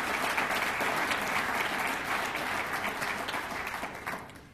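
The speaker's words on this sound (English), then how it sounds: "Let's give her a round of applause." Sustained audience applause at an athletics awards ceremony honoring high school athletes of the year, a dense steady wash of many hands clapping that holds strong throughout and thins slightly near the end.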